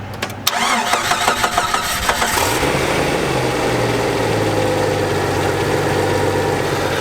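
A car engine with a faulty alternator and dead battery cranks on a jump pack, catching after a couple of seconds of rhythmic starter churn and settling into a steady, close idle with no talking.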